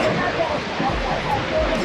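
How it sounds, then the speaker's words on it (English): A waterfall on Yosemite's Mist Trail gives off a continuous broadband roar of rushing white water close by. The sound stays steady and loud under nearby voices. "Waterfalls everywhere, white water, wet steps, freedom."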